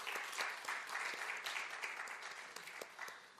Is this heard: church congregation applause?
yes